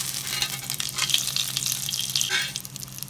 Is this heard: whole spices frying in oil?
yes